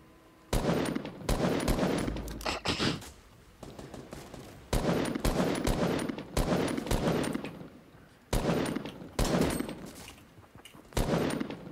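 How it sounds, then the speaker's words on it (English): Fortnite Battle Royale gunfire near Loot Lake comes in several long automatic bursts of rapid shots, fairly close and loud, with short quiet gaps between them. "There are people shooting from the loot lake, though"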